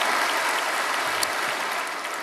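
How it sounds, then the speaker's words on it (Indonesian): A church congregation at a Sunday worship service claps for God, a dense, even wash of applause filling the whole short stretch. "Berikan tepuk tangan kita untuk Tuhan kita."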